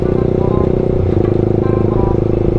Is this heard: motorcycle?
yes